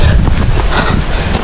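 Strong wind buffets the microphone during an outdoor ride, a loud continuous rushing roar with low rumbling gusts throughout.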